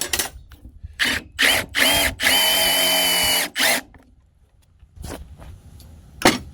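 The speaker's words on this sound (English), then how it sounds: "now I'm going to drill halfway through this board with the 7/16 fly bit" A power drill whirs in short bursts, then runs steadily for about a second as a 7/16-inch spade bit bores halfway into a wooden board, followed by brief revving pulses.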